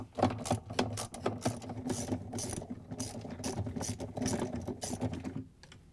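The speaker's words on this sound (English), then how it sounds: "We're going to reach in with a 7/16 socket with a long extension and take it out." A 7/16 socket ratchet on a long extension loosens the tub bolt inside a Whirlpool washing machine, giving close, rapid mechanical clicking in uneven bursts over a low steady hum.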